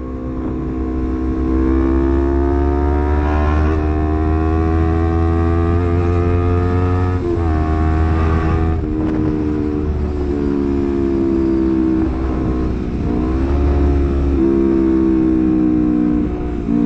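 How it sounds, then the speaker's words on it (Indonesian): Heavy engine drone on a busy road crowded with trailer trucks, loud and close, with a deep steady rumble and shifting pitch as vehicles accelerate and pass, no talk. "Ini rame banget sama truk-truk gandeng gini."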